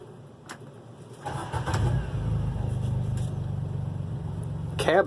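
A John Deere Gator 835M utility vehicle engine cranks over and catches, then settles into a steady close idle, with a brief rise in revs at the end.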